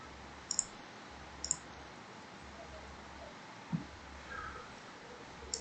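A computer mouse clicks a few times in a quiet room, sharp isolated clicks in pairs and singles spread over several seconds, close and crisp against faint background hiss.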